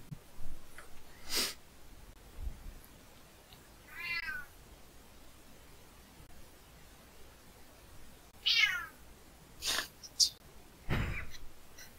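A house cat meows a few times, short rising calls spaced several seconds apart, mixed with snorting breaths and soft thumps close to the microphone in a quiet room.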